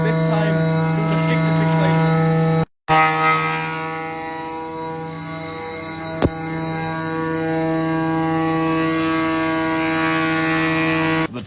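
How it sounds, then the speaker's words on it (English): A jointer thicknesser planes ash planks as they are fed back through to bring them to thickness, a loud steady machine drone with strong even hum, briefly cut off near three seconds before resuming with a single sharp knock mid-run. "Next we have to feed the planks back through the machine"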